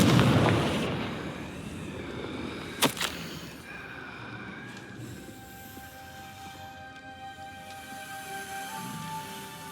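A Confringo blasting curse explodes in Hogwarts Legacy, a loud whooshing burst up front that fades into a rumbling tail, then a sharp crack and a short echo, with soft ringing tones lingering after.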